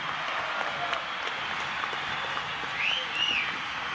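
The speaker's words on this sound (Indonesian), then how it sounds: "mari kita berikan tepuk tangan meriah kepada Tristian." Applause and cheering from the audience at an MMA event in Indonesia, a steady wash of clapping under the announcer's voice with a brief rising whistle near the end.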